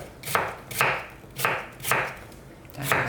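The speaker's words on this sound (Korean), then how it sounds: "너무 두껍게 하시지 말고 이런 식으로 무를 잘라줍니다" A knife chops radish into small even cubes on a board, each cut a sharp knock, seven strokes in a steady rhythm close by, with no talking.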